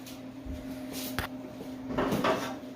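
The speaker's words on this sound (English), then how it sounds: "That way the drawer can slide in and out." A drawer on small 18-inch metal tracks on a kid's welding cart slides in and out, giving a short rolling rumble with a sharp knock partway through and a louder scraping run at the end, close and alone.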